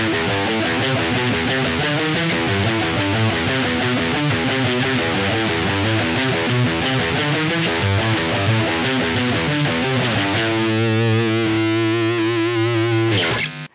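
Heavily distorted, very high-gain guitar tone from a DSP effect on a Steinberg UR-RT audio interface with Rupert Neve transformers, played as a dense, loud continuous riff that shifts to sustained chords near the end and then cuts off.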